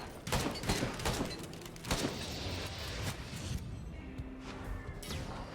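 Missiles strike repeatedly in the video game Risk of Rain 2, a dense barrage of explosive thuds and crashes over a continuous roar of game noise.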